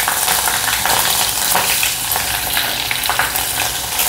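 Mustard seeds splutter and green chillies fry in hot oil in a kadhai for a cauliflower-potato bhaji tempering, a loud, steady sizzle with sharp crackling pops throughout and no talk.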